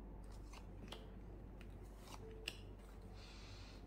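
Tarot cards are flipped over one after another, giving faint papery slides and light snaps, soft and close with no talk.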